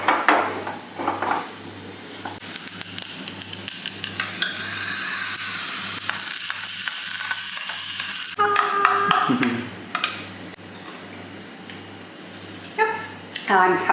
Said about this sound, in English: a very simple tempering for the coconut chutney with some mustard seeds, green chili and curry patta, and a little bit of coconut oil for the tempering